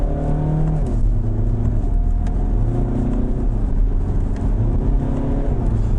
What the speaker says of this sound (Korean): 이제 패들 시프트를 사용해서 매뉴얼로 변속을 해보면